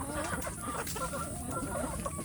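Village chicks peep and cluck in a steady, busy chorus at feeding time, with hens clucking among them close by and continuous chatter over a noisy background.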